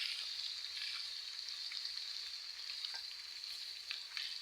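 Garlic fries in oil in a pan for pasta with breaded chicken, giving a steady, fairly faint hissing sizzle throughout with a few small crackles and no talk.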